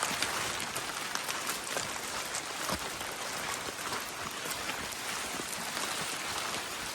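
Steady, dense rainfall patters continuously on forest leaves and surfaces in Idukki, an even wash of drops with no voices.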